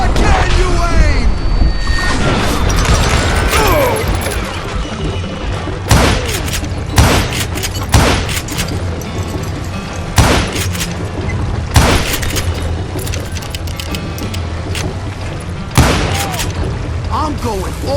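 Gunfire in the Western video game Call of Juarez: Gunslinger, loud booming shots scattered irregularly over a dense, busy game soundscape, with voices heard among the shots.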